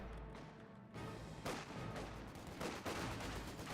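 MG42 machine gun fire in the World War II strategy game Company of Heroes 2, rapid rattling bursts with dull impacts amid battlefield noise, steady and moderately loud.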